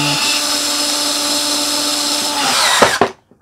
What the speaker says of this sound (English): My drill screwdriver